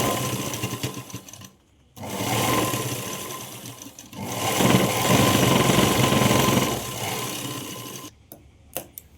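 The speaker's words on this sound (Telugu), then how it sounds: "మళ్ళీ ఇంకో డబల్ కుట్టు వేయాలి." An electric sewing machine stitches basket handles in loud, close whirring runs of rapid needle strokes, stopping briefly twice and then ending in short bursts, with no talk.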